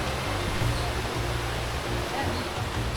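River flowing beside a jungle camp in Sumatra, Indonesia, a steady broad rushing wash of water, loud and continuous with no breaks.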